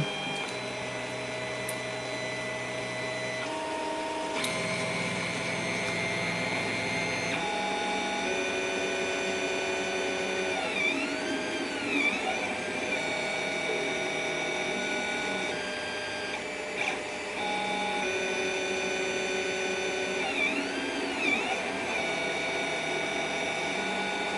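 A Creality CR-10 3D printer starts up and runs, its stepper motors giving a loud, steady mechanical whine. Tones shift in pitch and sweep up and down as the axes move, with no voices over it.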